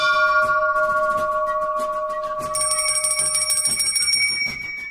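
An electric school dormitory bell rings continuously with a steady metallic clangour, moderately loud, a second bright tone joining partway before the ringing fades slightly at the end.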